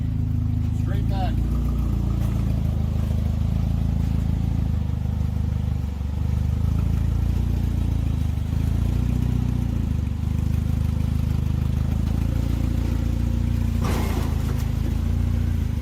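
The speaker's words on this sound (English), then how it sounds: "we got Cody pulling out my car with my flat tire" A circle-track race car with a flat tire is pulled out at Daytona beside a steady, loud low engine drone that holds nearly level throughout, with faint clanks and voices nearby.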